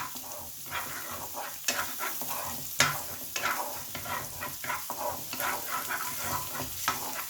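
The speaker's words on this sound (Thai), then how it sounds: "เอาไส้กรอกลงมาผัดก่อนนะครับ" Sliced pork sausage stir-fried in a hot pan for Japanese-style garlic fried rice, with steady sizzling and repeated scraping, clattering stirs at an irregular rhythm, close and moderately loud with no talking.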